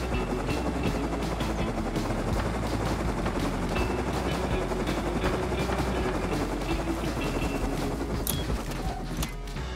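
A helicopter in a survival video game drones continuously with a dense rotor rumble and engine whine, overlaid by bursts of rapid gunfire and a distant sharp crack near the end.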